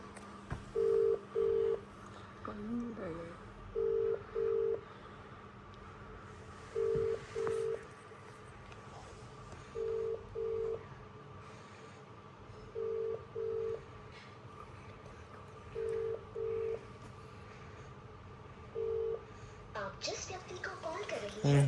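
A mobile phone call being placed: a short run of keypad tones, then a steady ringback repeating in paired pulses at an even pace for about twenty seconds, faint and with no answer, while a voice speaks briefly near the start.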